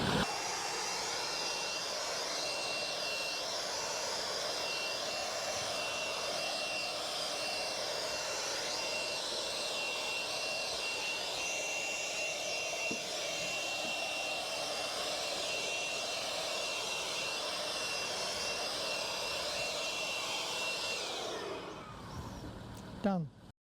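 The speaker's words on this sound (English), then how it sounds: "great for fires as well, is a blower. Now, it's very noisy, but it's just so thorough and so quick" A loud leaf blower at a campsite drones continuously at close range for over twenty seconds, then winds down and cuts off near the end.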